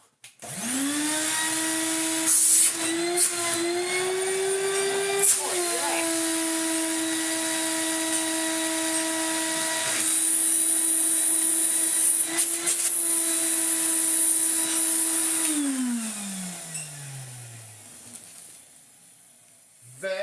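A restored Numatic NV200 vacuum cleaner, fans freshly cleared of fluff, runs loud and steady with a whining motor hum, then switches off near the end and winds down in a falling tone.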